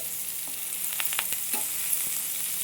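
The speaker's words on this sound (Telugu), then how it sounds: "ఈ నూనెలోనే ఆనియన్స్ వేసుకుంటాం ఆనియన్స్ కరివేపాకు ఎండుమిర్చి" Onions, curry leaves and dried chillies fry in hot oil with a steady, dense sizzle, broken by a few soft scrapes of stirring close by.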